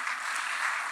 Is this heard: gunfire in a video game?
no